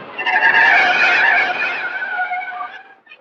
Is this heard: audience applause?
no